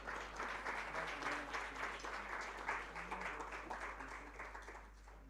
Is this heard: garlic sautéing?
no